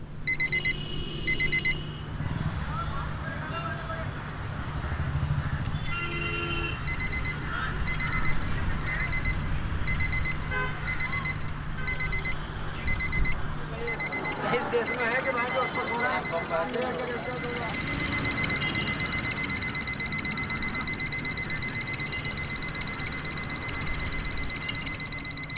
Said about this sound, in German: haben wir diesen schönen alten Wecker mitgebracht und machen sie jetzt mal wach